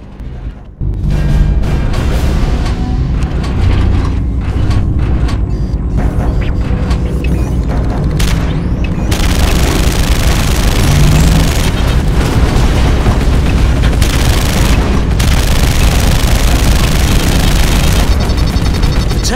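Rapid gatling gun and plasma cannon fire roar in the Terminator Salvation video game, with dense, loud, continuous blasts and booms building into a sustained barrage.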